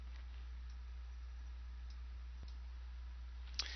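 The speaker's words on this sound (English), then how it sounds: "you click the Create Announcement button" A single faint mouse click on a Create Announcement button in Blackboard 9.1, set against a steady low electrical hum in an otherwise quiet room, with a second soft tick near the end.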